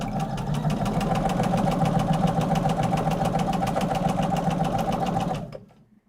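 Sewing machine chain piecing quilt pieces, a close, steady rapid mechanical whirring hum with even needle-rate pulsing, running loud for about five seconds before stopping, with no talk.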